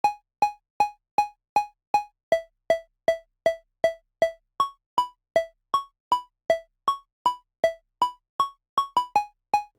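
A basic 3x oscillator synth plays a second melody in FL Studio, short plucky notes repeating in a steady, even pulse and stepping between a few pitches, clean and alone.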